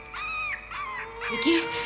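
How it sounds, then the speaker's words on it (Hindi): A dog howling and wailing in a drama scene, three drawn-out tonal cries in quick succession, fairly close and moderately loud over a faint background. "देखो कुत्ते के रोने की आवाज आ रही है।"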